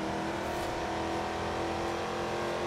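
In the Forza Horizon 4 racing game, a grand sport coupé's engine drones at high, strained revs while stuck in the wrong gear. The tone holds level and continuous with a loud, steady engine note.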